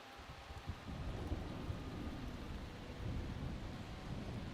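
Thunderstorm in the racing management game Motorsport Manager, with steady heavy rain and low rumbling thunder, fairly faint, continuing without a break.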